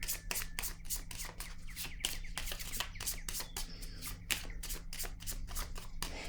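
Tarot cards are riffled and shuffled by hand in a rapid, crisp run of papery flutters and taps, close and steady for several seconds, with no voices.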